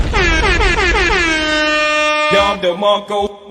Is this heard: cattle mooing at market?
no